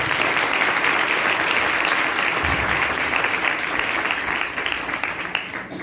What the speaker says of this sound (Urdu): ایک دفعہ یسوع مسیح کی پیدائش کے موقع پر اس کو خوش آمدید کہنے کے لیے بھرپور تالیاں بجاتے ہیں۔